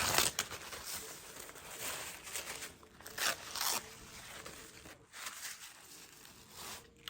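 Several quick tearing, crinkling rips in a row as wrap strips are pulled off a mold, close by, with brief pauses between pulls.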